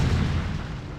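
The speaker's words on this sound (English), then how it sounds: "While we're being defended by our other tanks in siege mode." Siege-mode tanks firing in StarCraft produce a loud, deep explosive boom that rumbles and slowly decays over about a second, with no talking.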